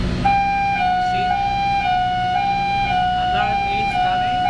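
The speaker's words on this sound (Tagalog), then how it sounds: "Alarm is coming." A ship's hold bilge alarm sounds continuously, a loud steady electronic tone pulsing in a regular stepped pattern about twice a second, over engine-room hum with no speech.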